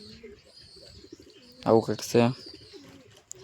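A young pigeon taken for training coos softly near the mic, with a louder pair of throaty calls in the middle and someone speaking briefly.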